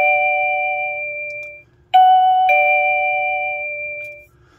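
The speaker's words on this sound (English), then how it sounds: "once you hear the double ding-dong, let up, and then you just select the desired tone." A Reliable Chimes RC 13 S wireless doorbell rings twice, each a clear two-note ding-dong chime that rings out and decays, close and alone in a quiet room.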